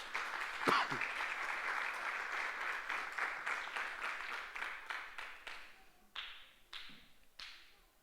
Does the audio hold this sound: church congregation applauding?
yes